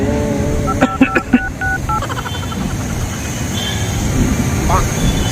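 Telephone dialing tones ring out: a quick series of about five short keypad beeps, then a few more fainter tones, over steady background noise and voices.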